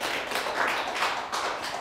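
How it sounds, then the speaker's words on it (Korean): Audience clapping at a cultural heritage training lecture in Korea, a steady dense patter of many hands that fills the whole short stretch at even loudness with no talk over it. "박수 한번 치셔."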